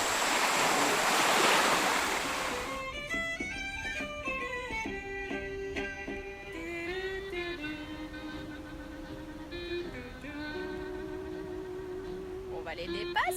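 Waves wash onto a beach in a broad, loud rush that soon settles into a steady, softer surf beneath a low, continuous motor hum, with no one talking.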